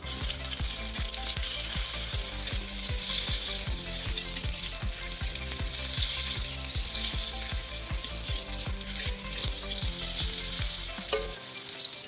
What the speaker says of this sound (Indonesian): Setelah itu kita tinggal aduk-aduk bumbunya supaya merata pas digorengnya.